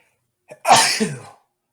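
A single sharp sneeze, close and loud, preceded by a brief quick intake of breath, then silence.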